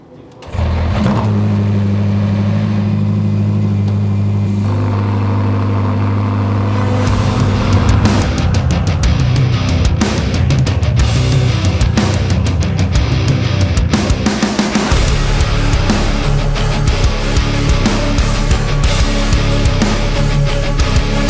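A $2.4 million McLaren Speedtail hypercar starts from cold, its engine catching and settling into a loud, steady idle with a strong low drone, then rising into busier, rougher revving later on, close by and with no talk.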